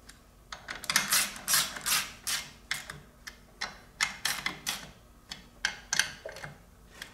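Ratchet running clutch cover bolts up snug on a Thundercat motorcycle, a close, steady series of quick clicking ratchet strokes and metal taps repeating evenly throughout, with no talking.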